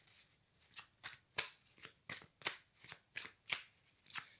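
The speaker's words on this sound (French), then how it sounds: "on bat les cartes et puis c'est toujours les mêmes qui ressortent" Oracle cards being shuffled by hand in a quiet room, a close, crisp riffle repeated in about a dozen quick, evenly spaced bursts.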